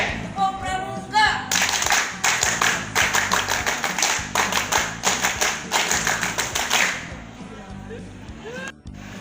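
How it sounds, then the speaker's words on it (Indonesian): Scout troop at a Pramuka inauguration ceremony performing the Tepuk Pramuka, a loud, sharp group clap in fast rhythmic patterns with pauses, ringing through a hall for several seconds, with a few voices around the claps. "Tepuk Pramuka."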